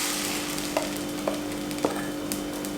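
Appam batter poured into a hot non-stick pan sizzles with a steady close hiss, broken by a few faint soft ticks and pops, with no talking.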